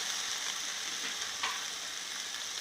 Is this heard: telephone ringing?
no